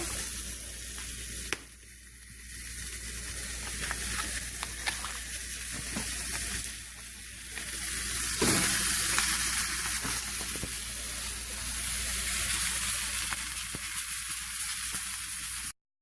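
Chicken hearts and gizzards frying in oil in a pan, a loud continuous hissing sizzle that swells and dips, with scattered pops and crackles and no talking.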